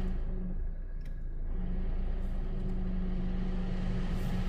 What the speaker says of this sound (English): I'm going to start the vehicle up